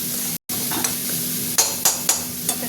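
Masoor lentils are stirred and fried in a pan with whole pointed gourd. A steady sizzle runs under a few sharp scrapes of the spoon against the pan, and there is a brief silent gap near the start.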